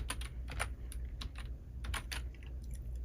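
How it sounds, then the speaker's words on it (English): Quiet, steady typing on a computer keyboard at a craft desk: a brisk run of light key clicks in an uneven rhythm, close and soft, with no voices. "Let me type in mushroom here."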